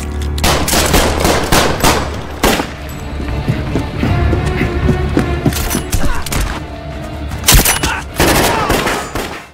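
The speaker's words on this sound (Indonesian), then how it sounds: "Tembakan Santo yang ia lepaskan dari dalam gerbong kereta berhasil melumpuhkan dua orang gangster." Gunfire in a movie scene, shot from inside a train carriage at gangsters, comes as loud, sharp bursts and rapid volleys with heavy booms and thuds scattered across roughly ten seconds.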